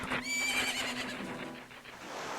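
A horse in The Legend of Zelda: Majora's Mask gives a single loud, close whinny that rises and then trails off, with a few hoof clops underneath.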